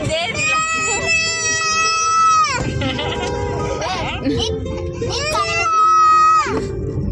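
A small child cries in loud, wavering wails with bleat-like pitch, two long sustained cries separated by a short break, with other voices talking in the background at a household haldi celebration.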